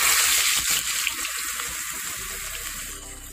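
Vada frying in hot oil for a mini hotel-style tiffin breakfast, a dense close crackling sizzle that starts strong and eases slightly, with no talking.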